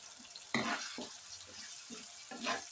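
Quiet sizzling and scraping of moong dal frying in oil in a pan, with a few stirring strokes and soft clatters, close by and with no talking.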